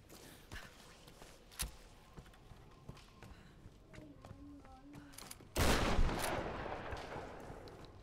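Gunfire in a Tomb Raider video game: a few faint scattered shots, then one loud close shotgun-like blast that rings out and decays, with quiet footsteps and ambient noise around it.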